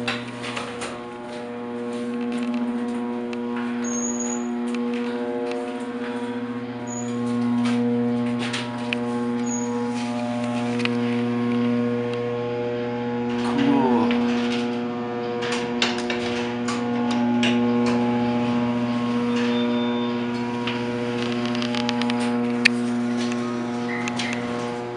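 Loud motor of a vintage Acme freight elevator running steadily, with a strong droning hum and harmonics plus rattling and clicking mechanical noises over the full ride.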